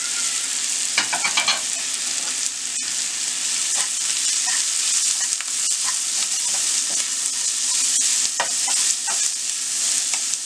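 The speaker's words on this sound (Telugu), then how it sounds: "ఒక క్యారెట్ని ఇలా తురుముకొని ఒక క్యారెట్ వేసుకొని ఫ్రై చేయాలి." Grated carrot fries steadily in a pan for gunta punugulu, a continuous close sizzle with scattered scraping stirs and clinks over about ten seconds, no voices.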